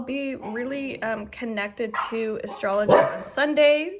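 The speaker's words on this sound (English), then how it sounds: "My apologies for the dog." A puppy barks and yips repeatedly in the background of a room while someone speaks over it, the short high barks coming in a quick irregular series.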